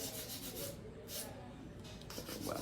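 An electric nail drill files an acrylic nail in short, soft, raspy sanding passes, quiet and close, with brief pauses between strokes.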